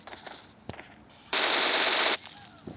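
A burst of sustained automatic gunfire from the video game PUBG rings out loud and close for about a second, framed by a few quieter single shots and thuds.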